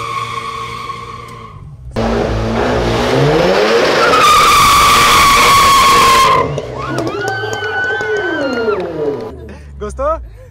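A race car launches hard from a standstill, the engine revving up and then a loud, sustained squeal of skidding tyres with a rising tone, trailing into more engine noise and brief chirps, while people talk and a crowd murmurs around it.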